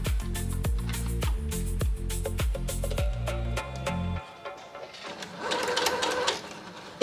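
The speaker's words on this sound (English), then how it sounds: "Ease the piece together and sew." A sewing machine stitches tote bag fabric in rapid rhythmic bursts for about four seconds, then stops, leaving quieter handling and rustling sounds close by.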